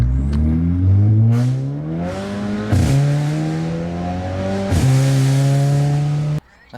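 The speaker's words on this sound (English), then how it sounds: "it's an exhaust ritual that we start the car without anything." A Fiat Punto fitted with a cheap exhaust and no catalytic converter, engine running loud and near, stepping up through rising gear-like revs with two brief breaks before cutting off abruptly.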